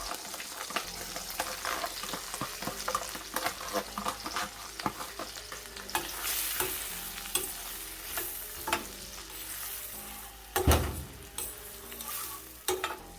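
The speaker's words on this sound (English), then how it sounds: "this is what my onions look like, all chopped up very finely. I'm going to add that to the butter now." Finely chopped onions hit melted butter and fry with a steady sizzle, stirred with a utensil in scraping, irregular strokes, one sharper clatter of the pan near the end, no voices.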